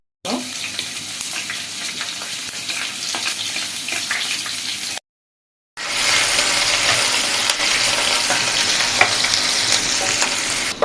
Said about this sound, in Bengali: পেঁয়াজটা ভালো করে বাদামি করে ভেজে নিয়ে